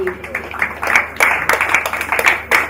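A few people in a hackathon audience clap for a competing team, sparse irregular hand claps, fairly close and uneven, with no crowd roar behind them.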